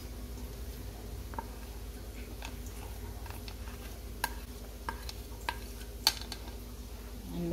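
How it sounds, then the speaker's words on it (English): A spoon stirs dry masala spices, red chili, Kashmiri chili, turmeric, jeera and coriander powder, into chicken korma in a pan, with a faint steady sizzle and scattered light scraping clicks, quiet and close. "And mix it well."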